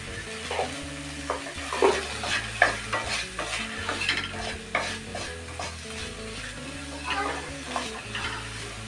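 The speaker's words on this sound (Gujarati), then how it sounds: "ગેસને ફ્લેમ ફૂલ રાખીને ચમચાથી શાકભાજીને સારી રીતે સાતળી લેવું" Mixed vegetables stir-fried in ghee over a full flame with a spoon: a continuous close sizzle with rhythmic scraping strokes against the pan and occasional utensil clinks, no talking.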